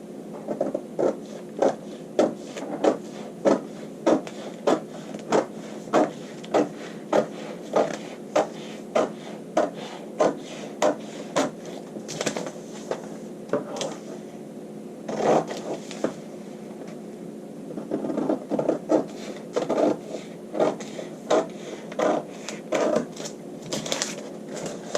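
Scissors snip through paper in a steady run of crisp, close cuts while a cap sleeve pattern is cut out, pausing briefly before the snipping resumes, with no talk.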